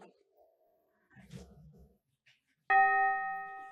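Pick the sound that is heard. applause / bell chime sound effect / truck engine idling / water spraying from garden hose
bell chime sound effect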